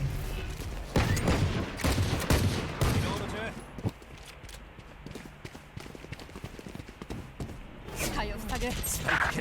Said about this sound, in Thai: มันยิงหัวกูเลยสองนัดอะ